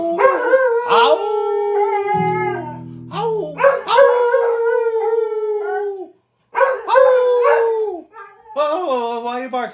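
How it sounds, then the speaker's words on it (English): A dog howls in long, wavering drawn-out tones broken by sharper barks and yips, close and loud, with a brief low thump partway through and a short pause near the end. "Whoa, why are you barking?"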